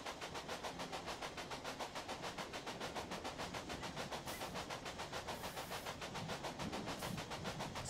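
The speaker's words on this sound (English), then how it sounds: "now on the first train to Rock Springs" A train runs along the tracks in the Railway Empire game, giving a steady mechanical rumble with a fast, even clickety-clack pulse that repeats throughout, loud and close with no talking.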